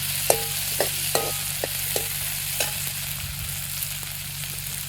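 Chopped onion and tomato sautéing in a pan, a steady soft sizzle with a few sharp spatula knocks against the pan, close and without talk.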